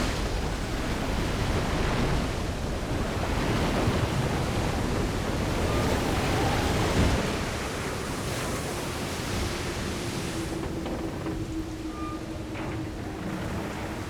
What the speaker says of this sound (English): Into the water it goes.